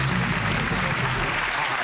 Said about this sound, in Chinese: 再次热情掌声